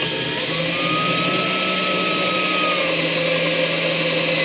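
A power drill driving drywall screws into wood for transplant trays, a loud continuous whining motor drone close up with a slightly shifting pitch throughout, no speech.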